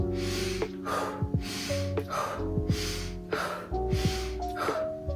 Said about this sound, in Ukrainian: одну хвилину ви дуже активно вдихаєте і відразу видихаєте